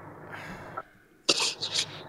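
A couple of short, sharp coughs break out close by after a quiet breath, harsh and abrupt.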